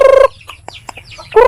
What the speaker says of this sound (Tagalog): Guys, pagka na nilagay lang mga manok.